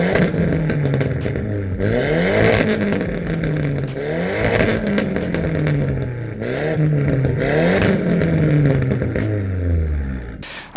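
Audi S3 8L 210 APY with a straight-through 3-inch turbo-back exhaust, revved hard in repeated rising and falling sweeps, loud, raspy and close, with crackles and pops between pulls before cutting off abruptly at the end.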